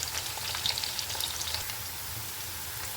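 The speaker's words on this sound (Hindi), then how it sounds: "प्याज हमारा फ्राई हो रहा है और प्याज को तेज़ आंच पे हमने इसको करना है" Onions fry over high heat for beef nihari, crackling in a steady, close sizzle with scattered pops and no voices.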